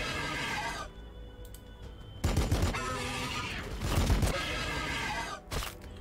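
Gunfire bursts in the Battlesector strategy game, loud rattling volleys starting abruptly mid-clip and repeating in a few close blasts, mixed with game effects and a quieter mechanical background.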